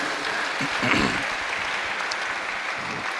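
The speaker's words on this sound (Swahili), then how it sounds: "Makofi kwa Bwana Yesu" A church congregation applauding together, a steady dense wash of clapping that swells briefly near the start and then holds evenly throughout, fairly close and loud.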